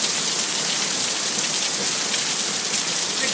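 Heavy rain from Hurricane Isaac lashes Pensacola with strong winds, a loud, unbroken roar of downpour and gusts that stays steady throughout, with no voices.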